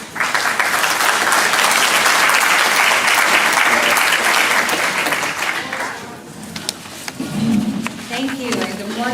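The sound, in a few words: audience round of applause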